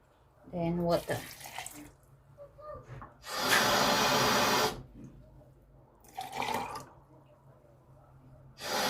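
Water poured into a blender of soaked soybeans for making soy milk, splashing in several short bursts of a second or so each, with a brief voice heard near the start.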